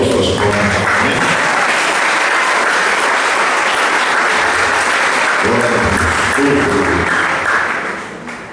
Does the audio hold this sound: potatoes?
no